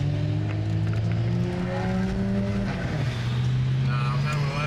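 Loud exhaust of a BMW F80 M3 running E85 or a BMW F10 M5, a deep droning engine note that holds steady then shifts pitch, close and loud with wind noise and no clear talk.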